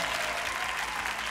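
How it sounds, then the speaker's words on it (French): Studio audience applauding on a French TV music game show finale, a steady dense clapping that holds at an even level throughout with no voices over it. "On applaudit encore."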